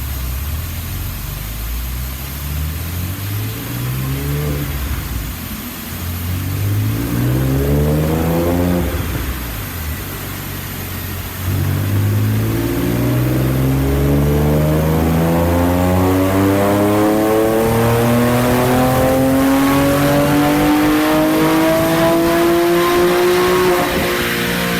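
Porsche 996/997-era flat-six engine with a factory 3.8 airbox, revved repeatedly in rising and falling sweeps before a long climbing pull to high rpm, loud and close.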